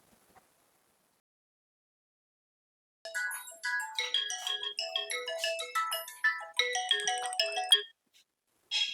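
A mobile phone ringtone plays a bright electronic melody of quick chiming notes that starts after three seconds of silence, rings loudly for about five seconds, then briefly resumes at the end.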